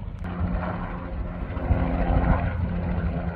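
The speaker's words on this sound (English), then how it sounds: "Adam, did you call the rescue helicopter?" A rescue helicopter flies overhead, giving a steady, moderately loud rotor and engine rumble that continues throughout without pause.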